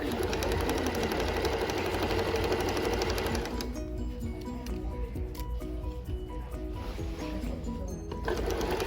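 Sewing machine stitching a 5/8-inch seam on a maxi skirt, running in steady continuous bursts with a brief slowdown partway through and rhythmic needle chatter throughout.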